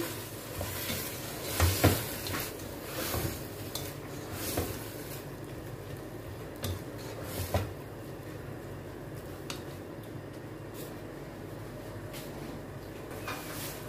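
A spoon scrapes and stirs a chili-ketchup sauce for chicken spaghetti in a frying pan, irregular soft strokes over a faint, steady sizzle.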